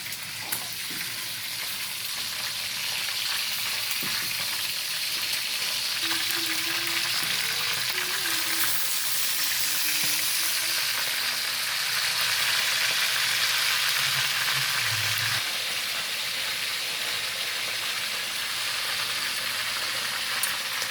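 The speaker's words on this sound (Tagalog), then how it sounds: "igigisa niya na po yung bawang, sibuyas, at luya" Garlic, onion and ginger sautéing in oil for a chicken dish, a steady close sizzle and hiss that runs continuously, with occasional soft stirring clinks and scrapes in the pan.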